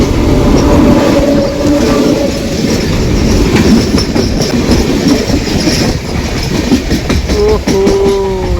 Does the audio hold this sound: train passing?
yes